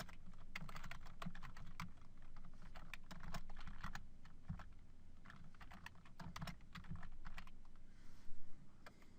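Computer keyboard typing a folder name, a steady stream of quick close key clicks with small pauses, ending on a slightly louder keystroke, no voices.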